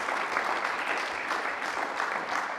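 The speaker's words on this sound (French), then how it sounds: "On peut l'applaudir, oui." At a community council meeting, the room applauds a new IT systems and network technician, a brief, even wash of clapping from many people, moderately distant and steady across the whole stretch without a voice over it.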